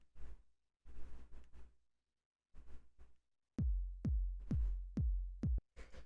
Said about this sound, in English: So the dry kick sounds like this.